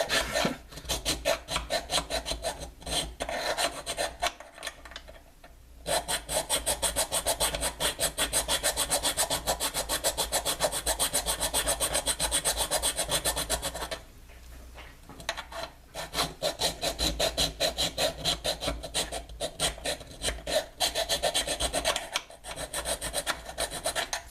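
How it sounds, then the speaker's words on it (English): A hand file rasps back and forth over a box mod enclosure, smoothing drilled holes, in long steady strokes that run close and loud, with two brief pauses partway through. "So generally you should only push a file in one direction"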